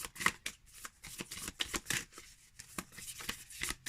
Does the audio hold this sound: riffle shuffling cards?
yes